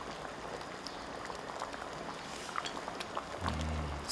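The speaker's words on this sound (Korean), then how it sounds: "맛있게 잘 끓여졌네." A pot of gamjatang, a pork bone and potato stew, bubbles softly and steadily at a low level, with a duller rumble coming in near the end.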